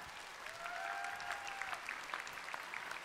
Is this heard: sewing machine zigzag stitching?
no